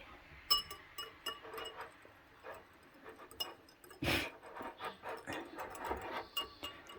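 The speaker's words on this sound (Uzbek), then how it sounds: "Yaxshilab aralashtirib olamiz buni." Food being stirred in a bowl, with soft scraping and light clinks of a utensil against the dish, close and quiet, with one louder knock partway through.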